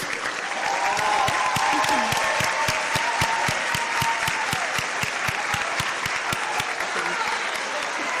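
Record-holding athletes stand at a college senior student-athlete award ceremony while the hall gives them a sustained round of applause. The clapping stays steady and full throughout, with occasional voices murmuring beneath it.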